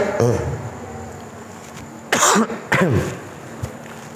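A couple of sharp coughs up close, the first brief and then two harsher bursts with a short gap between them.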